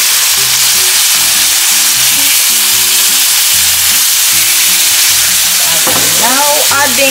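Onions sizzling in a pan on top of calf liver for beef liver adobo, a loud close steady frying hiss with low rhythmic hum underneath and a brief sweeping whine near the end.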